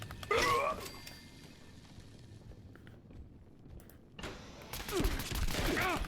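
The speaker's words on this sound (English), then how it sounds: "No, they're just immediately shooting me." Enemy gunfire in the Fallout 76 video game, sharp bursts of shots near the start and again toward the end, separated by a quieter stretch of ambient game noise.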